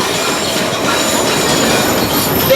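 St Kitts Railway train rolling across a crossing, loud steady rumble of carriages and wheels with a brief squeal near the end, no talk.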